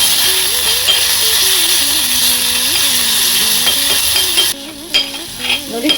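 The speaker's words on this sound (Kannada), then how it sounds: "ಒಂದು ಸ್ವಲ್ಪ ಈರುಳ್ಳಿ ಚೆನ್ನಾಗಿ ಎಣ್ಣೆಯಲ್ಲಿ ಫ್ರೈ ಆಗಬೇಕು" Onions fry in oil while being stirred, making a loud, continuous sizzle with a faint melodic tone behind it. It ends in a few separate scraping stirs as the sizzle drops away.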